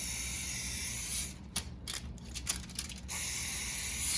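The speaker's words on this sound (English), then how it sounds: "Putting cooking spray underneath." A short hissing burst of cooking spray under salmon, a couple of quick pumped sprays lasting about two seconds amid quiet background noise.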